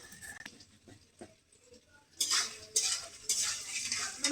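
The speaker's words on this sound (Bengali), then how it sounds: "এক হাতে আলু ভাজতেছি আর এক হাতে মশলাই বাটতেছি।" Potatoes frying beside spices being ground by hand: quiet scraping and tapping at first, then loud bursts of sizzling with stirring and pan clatter in the second half.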